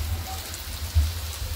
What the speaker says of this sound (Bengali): বাইরে এখানে বৃষ্টি হচ্ছে কম কম